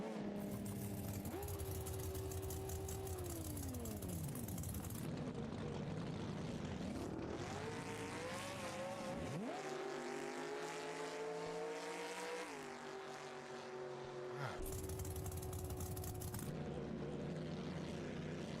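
A nitrous-fed Chevrolet Nova drag car in a racing video game screams down the strip, its engine note climbing and dropping through several sharp gear-change sweeps, loud and continuous with no talk over it.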